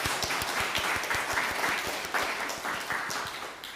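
A church congregation at Sunday worship applauds together, a dense run of overlapping hand claps at close range that holds steady, then thins slightly toward the end.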